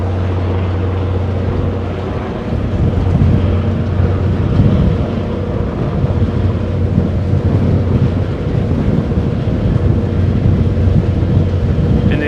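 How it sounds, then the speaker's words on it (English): Strong wind roars and buffets steadily in a loud, low rumble that continues without letup, with no one speaking. "And it is windy, windy, windy, windy."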